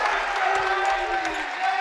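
Cheering crowd at a Keene State versus UMass-Boston men's college basketball game after a made shot, a sustained roar of voices and applause with a commentator talking over it.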